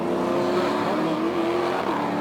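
A V8 race car engine running steadily at a track during a race, a continuous droning buzz heard from a distance, fairly loud and steady without clear revving peaks.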